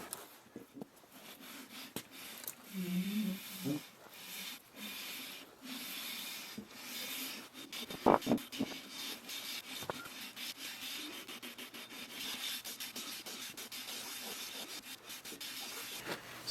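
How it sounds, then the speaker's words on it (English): An engine part from a John Deere 1010 engine rebuild is rubbed back and forth on 220 grit PSA sandpaper over a flat reference surface, producing soft, steady, close scraping strokes with a few louder knocks. "you can just put PSA sandpaper on it. There, I've got a 220 grit flat reference surface."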